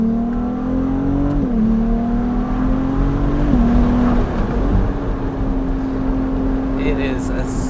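A Ferrari 296 GTS engine drones steadily at high revs, dipping briefly between gear changes, loud and close, with rushing wind noise throughout.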